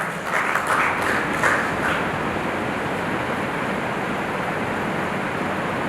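An audience applauds steadily at a news channel's award ceremony, a dense wash of clapping that holds at an even level throughout.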